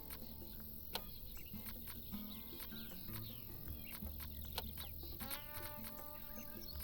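Chickens cluck in the Farm Manager 2018 farming game, heard faintly. Scattered clucks and bird calls sit among clicking ticks and a low ambient bed, with no talking.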